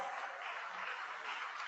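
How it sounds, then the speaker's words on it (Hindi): Audience applause at the IISF 2022 inaugural ceremony, a dense, steady wash of clapping from a large crowd that holds even throughout, with no voices over it. "आप सभी की जोरदार तालियों के साथ"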